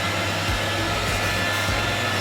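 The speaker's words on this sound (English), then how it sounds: "use the hair dryer." A hair dryer blows continuously on ruby chocolate bars, a loud close steady whooshing roar with slight dips in pitch as it is moved around, no voices.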